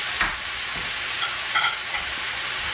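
Vegetable noodles with oyster sauce stir-fried in a pan: a continuous sizzle broken by a few sharp scraping and tossing sounds from stirring, close and fairly loud, with no talk.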